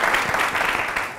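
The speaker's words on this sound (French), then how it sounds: "Ça s'applaudit très fort." A short burst of studio audience applause on a TV show, even, energetic clapping at close range with no voices.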